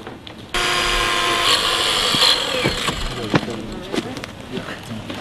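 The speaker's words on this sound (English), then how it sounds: "Take the chunk out of the A post with the cutter, another low cut just above the hinge" A power cutter slicing through a car's A-pillar just above the door hinge: a loud, close, sustained high-pitched whine with grinding metal, fading into scattered clanks and knocks as the cut ends.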